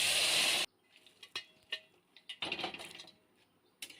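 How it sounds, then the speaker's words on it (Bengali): Boiled lentils for cholar dal tipped into a pan of fried spices: a loud wet splash and sizzle at the start, then quieter scattered clinks and stirring scrapes. "এখন আমি বয়েল করা ডালগুলো দিয়ে দেব।"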